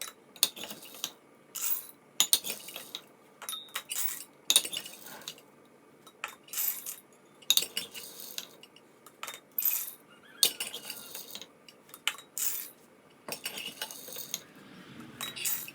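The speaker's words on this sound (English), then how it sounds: "We'll go ahead and fill up all of our jars." Dry kidney beans poured into glass canning jars, making a series of sharp clinking, rattling bursts with short pauses between pours, fairly close and moderately loud, with no talking.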